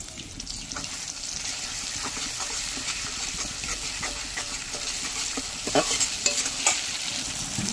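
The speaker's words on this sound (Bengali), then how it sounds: "শিলপাটায় পোস্ত শুকনো লঙ্কা বেটে রেখেছিলাম, সেটাও আমি তেলের উপর দিয়ে কষিয়ে নেব" Poppy seed and dry chilli paste stir-fried in hot oil, a steady close sizzle and frying hiss throughout, with scraping stirs and a few louder clatters toward the end.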